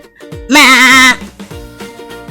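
A woman imitates a goat bleating during a Hindi classroom ice-breaking game, giving one loud, wavering bleat of about half a second between quieter sounds.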